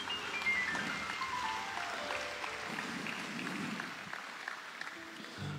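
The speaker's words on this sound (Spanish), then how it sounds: "Vamos, dale un aplauso al Rey de Reyes." A church congregation applauds during a Spanish-language sermon, dense sustained clapping from a large crowd that carries on for several seconds and slowly thins near the end.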